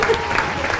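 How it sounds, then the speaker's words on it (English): Brief burst of applause from a children's show audience after a quiz question, dense clapping with a voice briefly over it. "Give yourselves a clap!"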